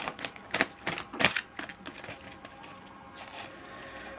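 Soft papery shuffling of a tarot card deck, quick clustered flicks and taps up close that fade into quieter rustling, with no voices.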